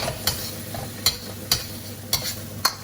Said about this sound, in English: And so now I'm going to quick stir fry.